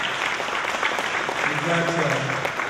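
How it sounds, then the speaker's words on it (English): A room of attendees at a county political dinner claps for a speaker's wife, the steady applause running throughout, with a voice and some tonal sounds rising over it partway through. "give her a round of applause for that"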